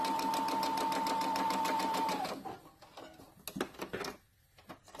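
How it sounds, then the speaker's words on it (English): A sewing machine stitches a scrap of fabric, with a steady rapid motor whir and needle ticking for about two seconds. After that come scattered clicks and handling noises as the stitching stops. "take this little scrap of paper and sew a little bit, and scrap of fabric, and sew a little bit"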